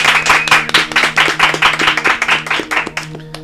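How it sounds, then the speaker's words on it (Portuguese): An audience claps at a talk on God in business, a dense run of crisp handclaps close and loud, thinning toward the end, with a faint voice underneath. "Então eu quero que vocês recebam com forte aplauso Flávio Augusto e Thiago Nigro."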